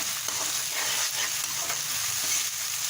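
Chopped tomatoes fry in a ginger-garlic masala for daal maash, a close, constant sizzle with scraping stirs cutting through it.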